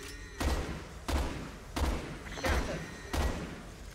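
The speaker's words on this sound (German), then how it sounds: "Ja, warte, ich muss noch zwei Schuss verschießen." Five evenly spaced gunshots in Resident Evil 6, heavy thumping bursts about every second and a half, with no talking.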